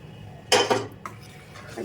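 A brief metal scrape and clank of a spatula against a wok, scraping oily fried-egg spices, one sharp burst followed by a lighter tap.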